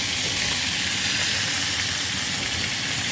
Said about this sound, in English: I'm gonna add my onions first